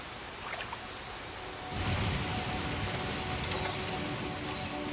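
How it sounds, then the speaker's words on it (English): Heavy jungle downpour that swells suddenly into a dense, steady roar of rain pounding foliage and ground, loud and close, with no voices. "The jungle still gets heavy downpours."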